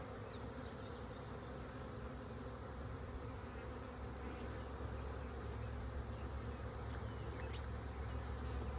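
Bees buzz continuously nearby, a soft droning hum with individual insects passing close now and then, no voices.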